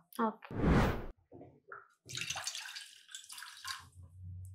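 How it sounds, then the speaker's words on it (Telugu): Water splashes and pours into a pot in a short, full burst, one glass of water for a home remedy drink, followed by kitchen clatter and a person talking. "దీంట్లో 1 glass ఆఫ్ వాటర్ యాడ్ చేసుకోవాలి"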